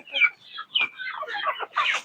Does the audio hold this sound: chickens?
yes